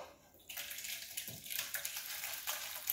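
Mixed pasta sauce poured from one pot back into an old pot makes a steady, close, wet splashing pour that begins sharply and carries on without pause for a few seconds.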